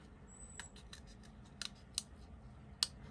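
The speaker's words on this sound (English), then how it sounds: "I'm cutting it out completely to the edge." Scissors snipping around the edge of a painted paper poppy, several separate crisp cuts spaced unevenly over a few seconds, close and fairly quiet against a near-silent room.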